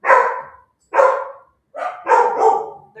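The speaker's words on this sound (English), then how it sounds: "They're both barking." Two dogs barking indoors at home, four or five loud, close barks in irregular bursts with short gaps between them, one bark running into a longer double yelp near the end.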